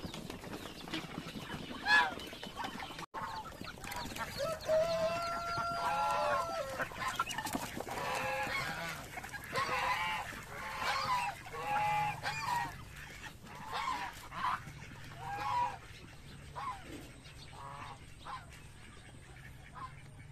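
A hen that hatched ducklings and the ducks around her on a small farm give a mix of honks, quacks and clucks, loud and close, sometimes under a voice, with the calls fading toward the end.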